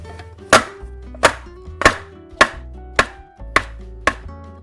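Seven sharp knocks of a chocolate cupcake tin rapped down on a counter to settle the batter, each a loud clipped thump evenly spaced about two-thirds of a second apart, alone with no talk.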